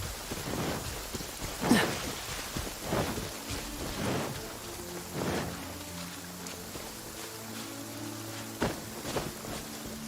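Rain pours in the Genshin Impact video game as a steady broadband hiss, with occasional louder splashes and thumps and faint low tones underneath.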